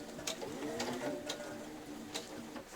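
A sewing machine stitches fabric for a child's dress, a quiet steady hum dotted with soft periodic clicks and taps, fairly faint and without talk.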